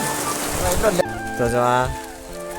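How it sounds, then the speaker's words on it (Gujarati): Steady rain falls during a monsoon camping trip at Saputara, pattering close by while a tent is being pitched, with a person speaking briefly over it. "વરસાદ ચાલુ છે અત્યારે"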